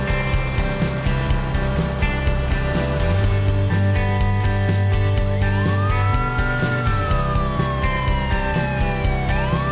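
An ambulance siren wails alone and loud, with a steady repeating tone pattern, then a long rising and falling sweep joins near the end.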